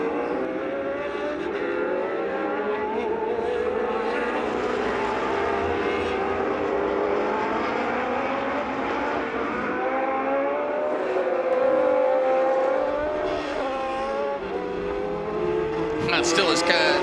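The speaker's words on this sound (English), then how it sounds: "Across the line they come then, in a great sprint race here for Formula One." Historic Formula One race cars from 1966-1985 scream past in a sprint race at Sonoma, engines wailing and shifting pitch continuously as several cars pass, with commentary running over the roar.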